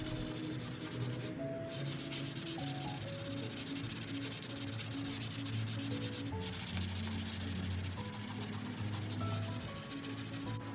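Continuous sanding of a filled wooden desk top being prepared for paint, a steady abrasive rubbing that stays even and close throughout, under faint background music with no talking.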